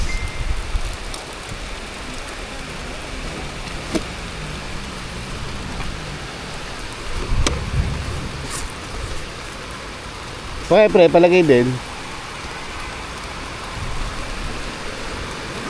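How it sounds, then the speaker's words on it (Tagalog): Heavy rain pouring down outdoors, a steady loud hiss of downpour filling the whole stretch, with someone talking over it and a brief louder noise near the end. "Grabe yung ulan."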